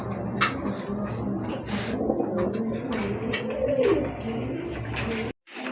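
Rare black pigeons coo in a loft: repeated low, throaty rolling coos over a steady bed of flock murmur and rustling, fairly close and continuous until a sudden cutoff near the end.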